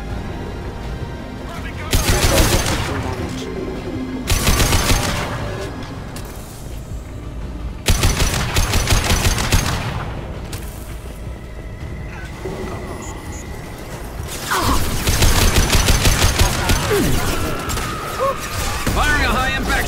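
Mass Effect 2 combat with bursts of rapid gunfire and crashing impacts arriving in several loud clusters, separated by quieter stretches where voices talk over the battle.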